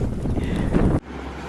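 Strong wind buffets a microphone outdoors in an open field, making a loud, low rumbling roar that cuts off abruptly to a quieter hum.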